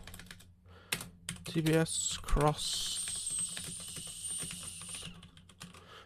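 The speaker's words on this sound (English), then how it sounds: "I'm not used to tapping on this keyboard." Clicky typing on a computer keyboard, close up, with irregular bursts of keystrokes running throughout. Someone speaks briefly over it, and a hissing noise swells midway.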